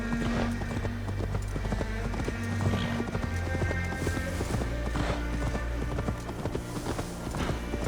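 Steady rhythmic clip-clop of horse hooves at a walking pace in the video game Assassin's Creed Valhalla, close and continuous, with a low droning music bed underneath.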